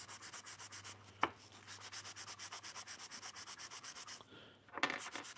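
A Japanese chisel is rubbed back and forth on sandpaper in steady, even strokes, quiet and close, broken by a couple of light knocks, with no talking.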